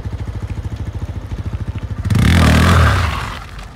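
A motorcycle idles close by with a fast, even, chugging putter, then surges into a loud rev that swells and slowly fades.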